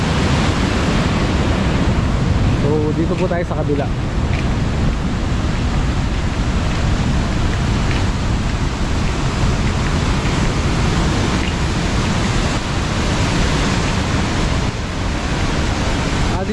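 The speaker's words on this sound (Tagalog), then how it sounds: "tignan po yung agos ng tubig, napakalakas" Strong river current rushes through Dadong Dam in San Juan Baño, Arayat, Pampanga, a loud, steady roar of churning water that fills the whole stretch, with a brief spoken line near the start.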